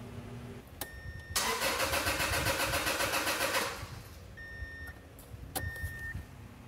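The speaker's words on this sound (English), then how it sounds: "It's cranks, so the engine turns over, but it doesn't start" A 1997 Subaru Legacy engine cranks without catching, a rapid steady starter whir lasting a few seconds between clicks, close and fairly loud, then cutting off without the engine running.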